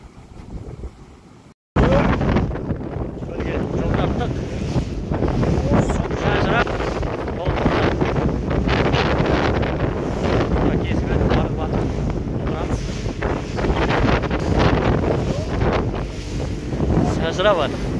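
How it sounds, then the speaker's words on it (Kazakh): Strong wind buffets the microphone at a lake during a fishing trip, a loud, continuous roaring rush after a brief quieter start, with gusts surging throughout and water sounds beneath. "Әлі күтудеміз желдің басылған боранның."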